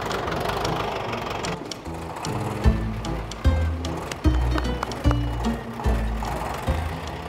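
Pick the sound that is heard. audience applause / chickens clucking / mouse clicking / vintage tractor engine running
vintage tractor engine running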